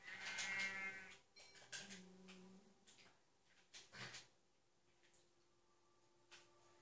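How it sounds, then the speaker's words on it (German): A sheep bleating in the video game Minecraft, a few quiet, faint bleats and animal calls over a soft background during gameplay. "Oh, ein Schaf."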